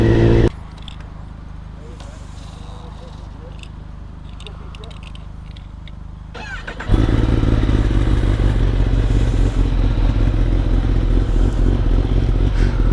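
A Kawasaki ZX10R motorcycle being ridden on the road, first a quieter steady engine hum, then a loud sustained roar with heavy wind rush from about seven seconds on.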